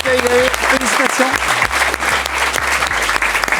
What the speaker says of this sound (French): on peut applaudir Verbose, Jessie qui a gagné.